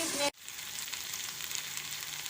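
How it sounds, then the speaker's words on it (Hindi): Rice frying with green masala for a green pulao gives a soft, even sizzle after a brief louder burst at the start, close and fairly quiet, no talk. "बस चावल मैंने ऐड कर दिए। इसे हम 1 मिनट तक फ्राई करेंगे।"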